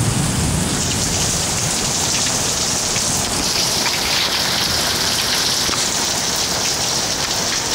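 Heavy rain pours down during a summer thunderstorm in Little Rock, a loud, unbroken broadband roar of downpour drumming on surfaces, steady throughout with no voices.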